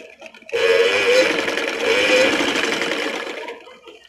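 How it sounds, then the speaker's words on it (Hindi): A sewing machine stitches along the sleeve seam of a ladies' kurta in one close, steady run of rapid whirring that lasts a few seconds and then slows to a stop. "यहीं से मैं सिलाई लगाना स्टार्ट करूंगी"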